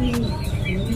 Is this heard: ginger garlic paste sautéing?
no